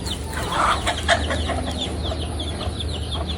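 Mixed heritage chickens cluck and chatter nearby in a farmyard, with soft repeated calls overlapping against a low background rumble.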